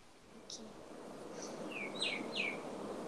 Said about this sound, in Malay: Ay, ada bunyi burung.